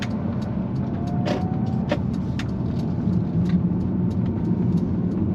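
A Mercedes-AMG A35 (W177) pulls away in town traffic, a continuous road and engine hum with tyre noise and a few faint clicks, with no talk.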